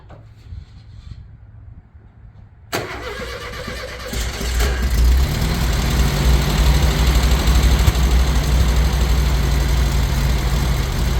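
A VW Type 1 1600 engine cranks and fires after a quiet pause, then settles into a loud, continuous chugging idle with the characteristic air-cooled flat-four rattle, close by and alone.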